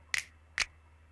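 Two crisp finger snaps from a drum kit sample set ring out alone, about half a second apart, each a sharp bright crack with a short tail.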